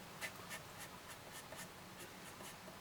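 Pencil colouring in leaves on card, a soft scratchy rubbing that repeats in quick, even strokes, faint and close with no talking.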